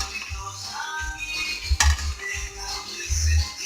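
Ingredients being turned over in a pan to toast for pozole rojo, with scraping and clinking of a utensil against the pan in several short bursts and a faint sizzle underneath.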